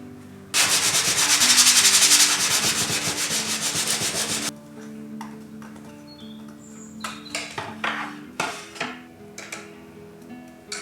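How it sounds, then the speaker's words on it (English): A laser-cut wooden cake topper is sanded by hand while held in its template: a loud, rapid, rhythmic rasping for several seconds, then quieter, scattered rubbing and light scraping strokes. "I'll just quickly sand it down."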